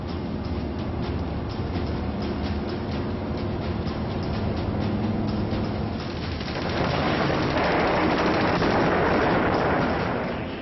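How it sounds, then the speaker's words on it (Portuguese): Gunfire from Allied aircraft strafing a car on an open road in Normandy during the Second World War: a sustained, dense rattle of shots and rumbling blasts that swells louder in the second half. "o carro de Rommel foi alvo de tiros vindos dos céus"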